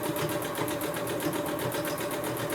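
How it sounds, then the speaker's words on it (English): A sewing machine stitches at a fast, steady pace, its rapid even clatter running close and continuous without a pause. "You can hear that I am stitching along there."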